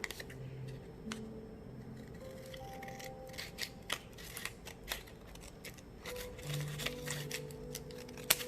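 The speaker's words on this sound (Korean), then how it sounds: "이 선을 따라서 가위로 오려주세요." Scissors snip folded paper along a marked line for a star-shaped paper craft, giving a steady run of crisp, close cuts and rustles with small pauses between strokes.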